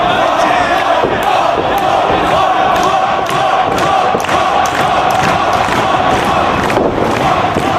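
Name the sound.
wrestling crowd cheering at a Samoa Joe vs CM Punk match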